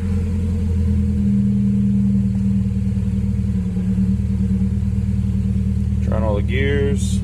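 A Nissan S13 running after a clutch swap, a loud steady low idle rumble close by for the whole stretch, with a voice speaking briefly over it at the end.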